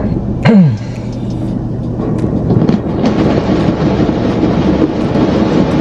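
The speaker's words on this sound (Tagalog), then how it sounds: "magsha-shower muna yung sasakyan." Automatic car wash at a Dubai car wash showering a car, a steady loud rush of spraying water and machinery with a brief sweeping mechanical whine near the start.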